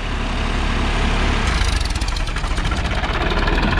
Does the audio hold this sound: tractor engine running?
yes